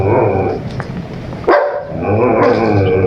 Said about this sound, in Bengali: হ্যাঁ কুকুর আছে